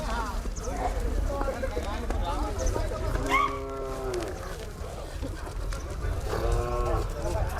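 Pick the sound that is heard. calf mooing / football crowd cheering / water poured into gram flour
calf mooing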